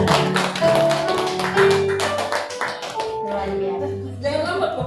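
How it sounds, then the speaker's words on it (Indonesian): Hands clap in a quick steady rhythm alongside singing and music at a church service, loud and close, before the clapping fades out. "Jangan lambat Bapak Yusuf tepuk tangannya"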